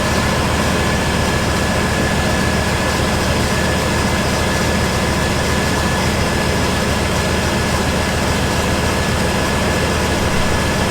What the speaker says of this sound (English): we're going to turn on the vehicle, and so it warms up